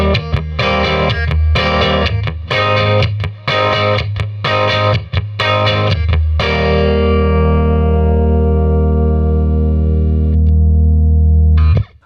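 Jazzmaster electric guitar on its bridge pickup played through a Princeton Reverb amp with amp overdrive, no pedals: loud strummed chords in a choppy rhythm, then a long ringing chord left to sustain and decay, with a brief final strum.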